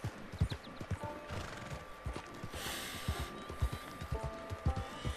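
Horses in the video game Red Dead Redemption 2 neigh and whinny over steady clip-clopping hooves, a busy, continuous layer of hoofbeats with snorts and ambient game noise.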